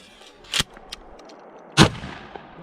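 Two shotgun blasts fired outdoors, sharp loud reports about a second apart, each trailing off quickly, with quieter clicks between them.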